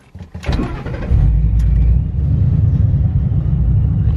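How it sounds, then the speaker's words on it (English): A 2005–2009 Ford Mustang engine cranks and catches, then settles into a deep, steady idle rumble that stays loud and close. "Now we could fire up the car"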